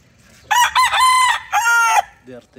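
A four-month-old McLean cross stag, a young rooster, gives two loud close crows, the first broken into short segments and the second a sustained call, followed by a faint cluck.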